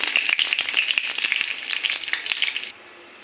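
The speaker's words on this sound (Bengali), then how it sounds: "ভেজে নেব" Pumpkin flower fritters frying in hot oil, a bright crackling sizzle with popping bursts and a few scrapes of stirring, close and loud, cutting off abruptly near the end.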